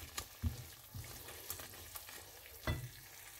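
Green beans, tomato and chicken frying in a pan and stirred with a utensil, a steady close sizzle broken by a few louder scraping stirs, with no talking.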